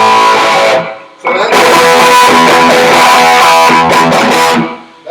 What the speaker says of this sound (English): that's like in distortion mode